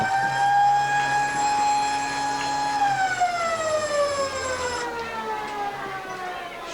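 A long siren sounds at quarter time during a football grand final, a loud sustained tone that holds steady then slides downward in pitch before cutting off, with crowd noise underneath.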